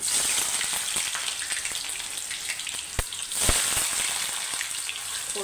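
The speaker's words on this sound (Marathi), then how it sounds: "कांदा तळून घेणार आहे।" Sliced onions fry in oil in a kadhai for chicken biryani, giving a steady, fairly quiet crackling sizzle with scattered pops and no voices.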